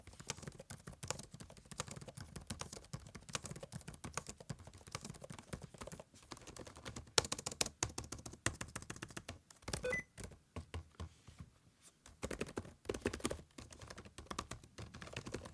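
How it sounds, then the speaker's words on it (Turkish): Steady rapid clatter of keys typed on a Monster Abra A5 V20.2 laptop keyboard, close up, with short pauses and bursts of quicker tapping throughout. "Klavyenin ses performansına gelin hızlıca bir bakalım."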